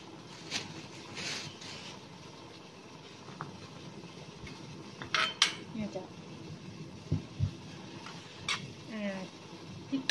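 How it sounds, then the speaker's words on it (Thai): Sour eggplant being pounded into chili curry paste in a mortar for a drumstick curry, producing a string of sharp, irregular knocks and clinks that grow more frequent toward the end, with a quiet background hum. "เอามาเขือส้มโขกไปในพริกแกงนี่เลยนะเจ้า"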